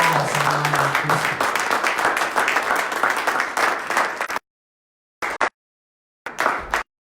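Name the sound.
church congregation applauding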